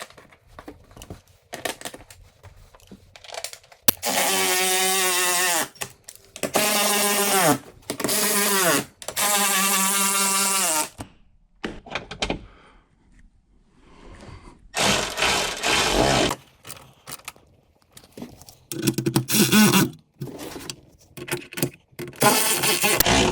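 A cordless power tool drives bolts into the roof of a Polaris Ranger UTV during a roof seal kit install, in several loud bursts of whirring that ramp in pitch and stop, separated by short pauses and clicks.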